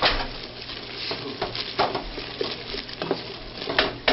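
Chili powder is stirred into browning meat in a pan, a soft sizzle running under irregular scraping and stirring strokes with occasional light clinks of utensil against the pan, close and fairly quiet.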